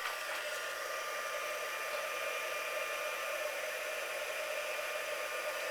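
A heat tool blows hot air to melt embossing powder on paper, giving a steady, even whoosh like a hair dryer that runs unbroken and fairly loud throughout.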